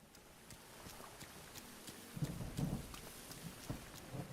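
Steady rain falls in The Legend of Zelda: Breath of the Wild, a soft continuous hiss with scattered patters and a low rumble of thunder building toward the end, quiet and without speech.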